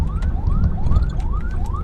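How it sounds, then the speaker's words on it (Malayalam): A loud, close ambulance siren wails in repeated rising sweeps, about four cycles, over rumbling traffic noise on the Valapattanam bridge in Kerala. "ഒരു ആംബുലൻസ് വരുന്നു"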